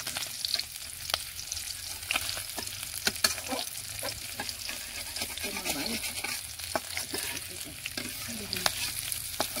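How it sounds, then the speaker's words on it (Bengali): Fish frying in a pan in a home kitchen gives a steady sizzle with scattered crackles and pops running evenly throughout, close and moderately loud, with no talking. "মাছ ভাজা হয়ে গেছে"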